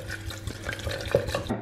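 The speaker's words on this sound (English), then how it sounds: "Now we're gonna pour in the delicious red wine that we've just sampled." Red wine is poured from close by into a drink mix with orange juice, making a continuous splashing, gurgling stream at steady volume.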